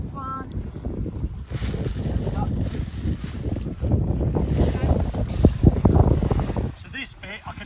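Wind gusting hard into the microphone outdoors while a paraglider wing is packed, a continuous, loud rumbling buffet with people talking underneath.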